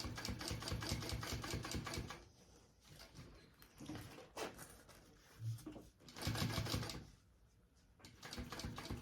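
Sewing machine stitching a bag pocket, rapid mechanical clatter in runs of about two seconds separated by pauses, close and fairly loud.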